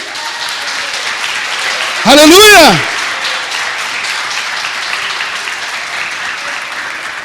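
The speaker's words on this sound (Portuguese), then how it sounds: "Dá uma salva de palmas para isso." A church congregation bursts into a short round of loud applause lasting under a second, with a preacher's voice speaking over the room before and after it.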